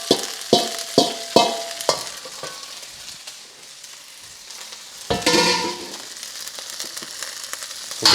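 Blanched kale hits a hot pan and fries with a sizzling hiss, broken up by sharp utensil knocks and scrapes as it is stirred, with a louder burst of sizzle partway through.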